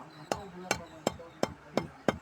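A marudhai tree stick being cut for planting: six sharp, evenly spaced chopping blows, close and crisp, with brief quiet gaps between them.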